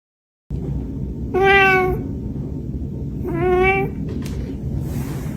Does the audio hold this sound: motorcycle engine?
no